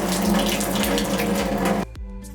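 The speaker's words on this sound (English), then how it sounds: "We are going to drain this." Liquid from canned jackfruit pours steadily into a sink like running tap water, loud and continuous, then cuts off abruptly near the end, leaving a softer trickle.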